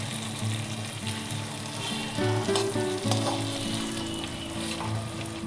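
Spice masala sizzles steadily in oil in a pan while paneer rezala is cooked, a loud continuous frying hiss with faint stirring knocks throughout and no voices.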